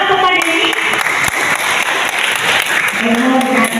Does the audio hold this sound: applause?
yes